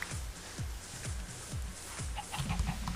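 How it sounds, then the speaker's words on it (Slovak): A Minecraft chicken clucks in a steady rhythm of low, short pulses, about two per second, quiet against a faint background hiss. "Ešte túto sliepku zabijeme."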